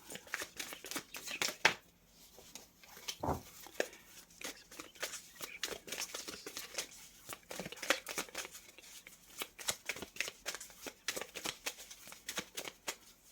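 Tarot cards being shuffled and drawn, a steady run of soft, quick riffling and flicking close by. The taps and slides come in irregular bursts, with a faint room hum underneath.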